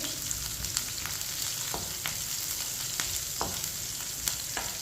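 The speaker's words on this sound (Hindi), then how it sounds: "एक बारीक कटा हुआ प्याज, ये प्याज मैंने छोटा सा लिया, प्याज डाल लेंगे। प्याज को मिक्स कर लेंगे।" Chopped onion with cumin frying in hot oil for masoor dal, a steady close sizzle with occasional spoon scrapes and taps as the pan is stirred, no voices.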